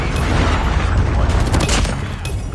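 Call of Duty Mobile Domination match with dense in-game battle noise: a continuous wash of rapid gunfire and booming impacts, loud and steady throughout, with a sharper burst near the middle, consistent with a Predator missile strike amid the fighting.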